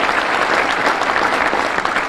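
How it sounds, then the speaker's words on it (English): A crowd breaks into steady, dense applause at a chamber of commerce luncheon in Monroe, Louisiana, many hands clapping together at full volume throughout. "that's worth a round of applause"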